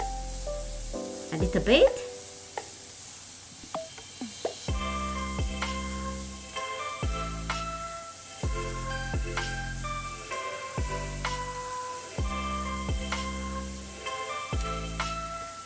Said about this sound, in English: then add in broccoli and mushrooms. Then we stir fry the mixture